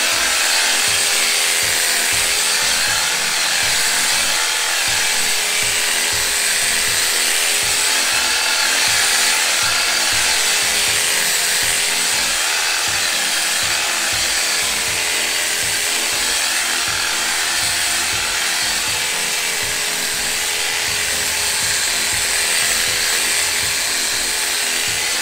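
Pellenc commercial battery-powered hedge trimmer running at speed setting three, a steady loud whirring buzz that holds continuously without breaks, no talking over it.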